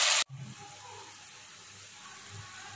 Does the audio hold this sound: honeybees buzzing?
no